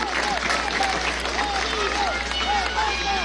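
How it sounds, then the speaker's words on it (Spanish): Crowd applause for the deputies at the National Assembly budget presentation in the Panteón Nacional, a steady wash of clapping heard at a moderate distance, with a voice talking over it. "Yo quiero pedir un aplauso al Bloque de la Patria, a los diputados y diputadas de la dignidad en la Asamblea Nacional."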